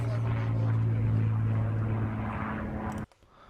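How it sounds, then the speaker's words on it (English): A recording of a Spitfire aircraft's propeller engine plays back as a loud, steady droning roar that cuts off abruptly just before the end, leaving faint room noise. "The Spitfire sounded like this."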